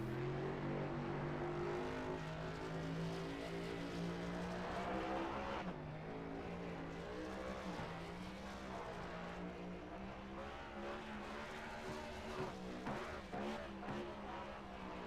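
Race car engines howl loudly and continuously during a burnout on the Bristol dirt track in a racing video game, with rising and falling revs and no speech.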